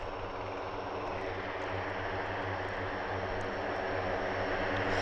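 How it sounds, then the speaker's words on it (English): A V-22 Osprey tiltrotor aircraft taking off down the runway at Mildenhall airfield: a continuous, dense rotor and engine roar with a steady low throb, slowly growing louder over a few seconds. "great to see that Osprey taking off"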